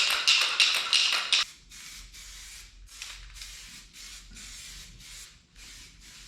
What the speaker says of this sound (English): That's a little coat of primer on some stuff.